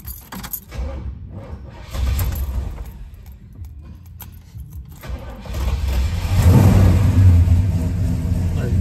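A 1970 Oldsmobile Cutlass convertible engine cranks and catches after some key and interior handling noises, then settles into a rough idle before revving up loud and close in the final seconds.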